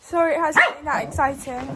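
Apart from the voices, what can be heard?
dog barking excitedly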